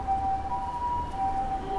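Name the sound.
ambulance siren passing by in Chiba, Japan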